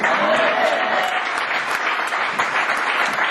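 A church congregation breaks into dense, sustained clapping that lasts throughout, close and lively, with voices mixed into the applause.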